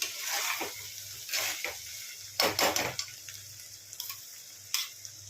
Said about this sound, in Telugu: ఇలా ఫ్రై కావాలండి.